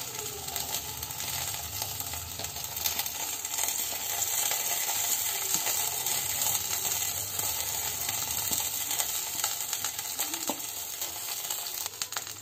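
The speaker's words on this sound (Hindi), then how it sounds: "अब हम इसमें चावल डाल देंगे। और साथ में दाल भी डाल देंगे।" Rice and dal hitting a hot pot for khichdi, giving a continuous loud sizzle with scattered clicks and stirring scrapes close by. It stays steady throughout, with no voices.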